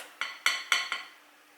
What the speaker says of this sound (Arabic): نخبطو شويه باه ميهزش بزاف